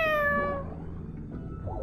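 A single drawn-out cat meow in the video game Honkai: Star Rail, clear and close, followed by quiet background ambience.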